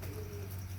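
Brief, soft coo from a rare pearl-marked breeder pigeon kept at a rooftop setup, low and faint over a steady background hum.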